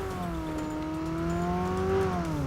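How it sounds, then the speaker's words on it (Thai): A vehicle engine in PUBG Mobile hums steadily at close range, its pitch rising and falling slightly as it draws nearer, with no talking over it. "เฮ้ย มีรถมา"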